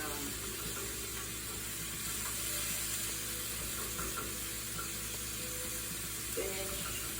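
Thawed spinach sizzles and fries steadily in a pan as it is stirred, a soft continuous hiss with faint scraping, recorded close in a home kitchen.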